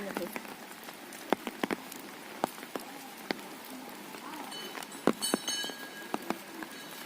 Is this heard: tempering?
no